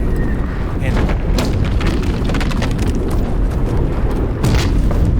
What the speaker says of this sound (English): I cannot believe being in here, having that artillery barrage on top of you.